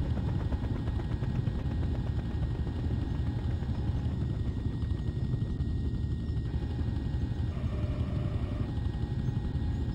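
A video-game helicopter straining to carry a load of seven logs gives a loud, constant rotor chop and engine drone, steady throughout with no voices.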